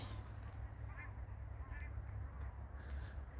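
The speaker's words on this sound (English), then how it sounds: "They're just birds. I don't know what they're called." Distant geese or ducks honk a few times in short bursts, faint above steady outdoor background noise on a chilly walk.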